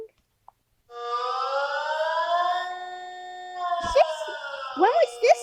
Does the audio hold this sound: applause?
no